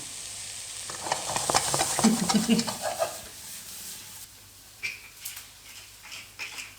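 A chilli mixture fries and caramelises in a pan, giving a steady hiss with crackling pops and occasional stirring scrapes, loud at first and then settling into fainter sizzling with a few brief clinks near the end.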